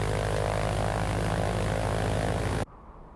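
A cartoon airplane's steady droning propeller engine hums loudly and continuously, then cuts off abruptly near the end, leaving a quiet rumble.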